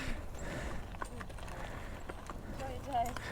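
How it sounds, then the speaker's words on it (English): Horse hooves pulling a cart clip-clop at a steady trot, faint and somewhat distant, with voices and outdoor background noise around them. "There, the horses, the horse, the cart."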